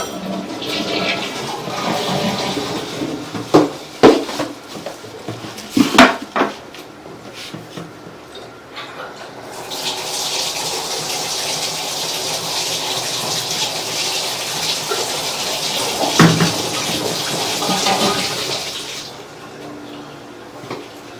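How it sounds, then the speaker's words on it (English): Toilet flushing, then a bathtub tap running: clanks and knocks at first, followed by a loud steady rush of water lasting several seconds, close to the listener. "We flushed the toilet and we ran the tub for just a moment."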